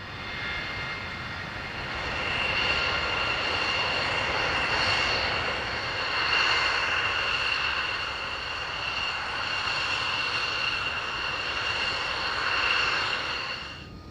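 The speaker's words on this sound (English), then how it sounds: "the F-117 Nighthawk, the stealth fighter, is still an impressive sight" An F-117 Nighthawk stealth fighter flies past at an airshow, with a loud, sustained jet roar and a high whine that swells and fades in waves.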